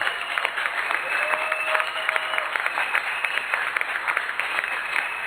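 A church congregation applauds steadily and cheers in acclaim of the Lord, dense clapping with voices rising throughout, loud and close.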